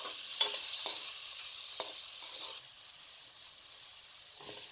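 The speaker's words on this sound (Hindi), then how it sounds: "इस तरह रेशे रेशे बनाकर 2 से 3 मिनट तक भून लें।" Shredded chicken fries with browned garlic in a pan while being stirred: a soft, quiet sizzle with a few light utensil taps near the start.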